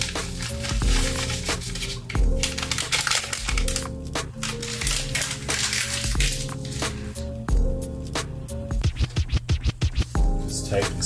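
A spoon scrapes and churns vegetable beef stew ingredients mixed with two packets of Lipton onion soup mix in a crockpot, giving repeated wet scraping strokes under steady background music.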